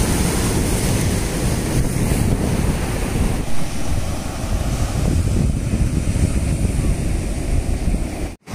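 Steady roar of sea waves breaking on the shore at Maravanthe Beach, Udupi, with strong wind buffeting the microphone throughout.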